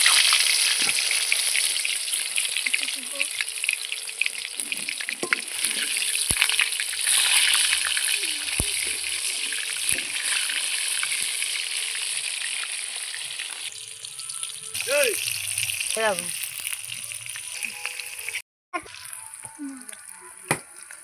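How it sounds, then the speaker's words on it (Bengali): Chicken kebabs sizzle and crackle steadily in hot oil at home, a loud continuous fry with a few clinks of a spatula near the end; no talking. "আমি একটা একটা করে তেলের মধ্যে ছেড়ে দিচ্ছি"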